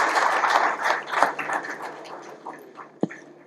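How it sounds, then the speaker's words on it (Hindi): An audience at a song launch event welcomes Railway Minister Suresh Prabhakar Prabhu with applause, a full roomy wash of many hands clapping that gradually thins and fades, ending with a single sharp knock. "जोरदार तालियों के साथ उनका स्वागत कीजिए।"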